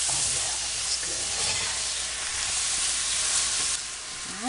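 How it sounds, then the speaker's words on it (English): Vegetables for crawfish etouffee cooking in a pan, a steady broad sizzle and hiss running throughout at moderate level, with faint occasional stirring and no talk. "We're going to let our vegetables cook just a little bit till they get kind of translucent"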